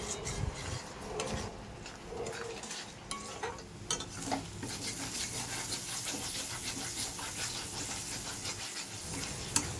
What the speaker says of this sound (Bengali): সময় নিয়ে মশলাটা কষিয়ে নেব